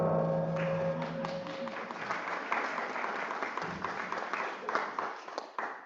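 Audience applause at a talk on reparations and decolonization, steady clapping from a crowd lasting several seconds, moderately loud, thinning out toward the end.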